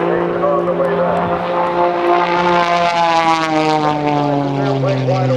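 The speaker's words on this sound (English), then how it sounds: "The airplane wide open. It's the Cirrus Extra 300S wide open most of the time." A Cirrus Extra 300S aerobatic airplane at an air show roars at full throttle, a loud, steady propeller drone whose pitch slowly sinks as it passes, close and continuous.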